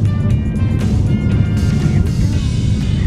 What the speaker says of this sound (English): The vlog car is ready.